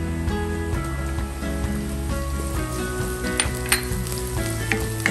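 Chopped onion and garlic sauté in a pan with a loud, steady close sizzle, with occasional stirring clinks and background music underneath.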